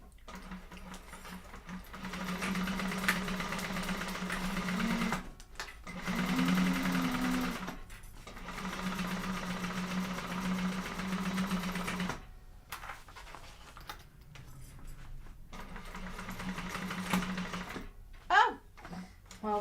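Sewing machine stitching, a steady close whirring hum running in long stretches separated by brief pauses, stopping and restarting several times, ending with a few quick clicking taps.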